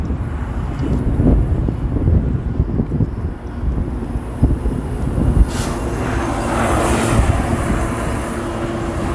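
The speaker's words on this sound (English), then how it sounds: "For all you transit fans out there, you have a GO train." A GO train rumbles past outdoors in Toronto, a steady, heavy low-end roar of rolling wheels and cars with wind buffeting the microphone, rising slightly toward the end.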